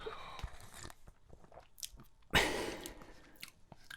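A loud close slurp of hot green tea taken from a cup, one sharp sucking burst after a few small mouth and cup sounds, in a quiet room.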